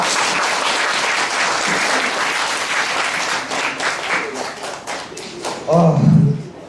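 A concert-hall audience at a fusion concert event applauds a student's lecture with sustained, dense clapping that slowly thins out, and a voice breaks in near the end.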